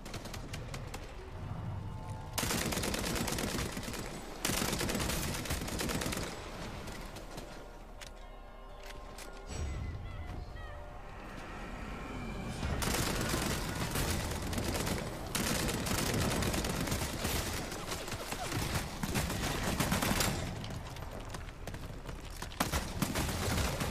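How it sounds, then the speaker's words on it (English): Rapid automatic gunfire from a light machine gun in the Twilight video game, loud sustained bursts broken by short pauses, with no talking over it. "I'm gonna have to use the LMG up close."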